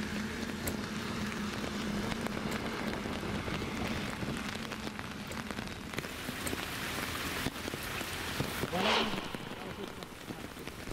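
Heavy rain pours down steadily over waterlogged farmland near Pandharpur, a constant dense hiss of drops with a brief louder swell near the end.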